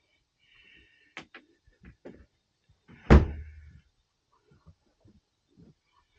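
The under-bed storage lid in a camper is lifted: a few small clicks and taps lead to one solid thud, then quieter rattles in a still room.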